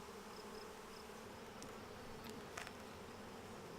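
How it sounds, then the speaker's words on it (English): Tens of thousands of honeybees hum steadily inside an open beehive on a farm. The dense drone is continuous and close, with a few brief sharper buzzes as individual bees pass near. "There are so many bees right now."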